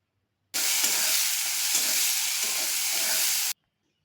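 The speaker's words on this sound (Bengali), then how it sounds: "এবার কুচনো পেঁয়াজটা ভালো করে ভেজে নিচ্ছি।" Chopped onion fries in hot oil with bay leaf, cardamom and cumin for a Bengali eel fish curry, a loud, even hiss that starts suddenly, holds steady for about three seconds, then stops.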